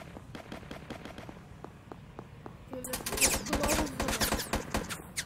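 Gunfire in a Roblox war game: a string of sharp, evenly spaced shots at first, then a louder, denser burst of overlapping blasts and crackling fire, with voices faintly under it.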